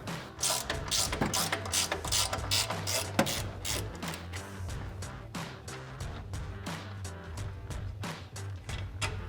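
A socket wrench ratchets off suspension bolts on a 2005–2023 Toyota Tacoma during a Rough Country 3.5-inch lift kit install, making close, loud bursts of rapid clicking that stop and restart repeatedly without talk.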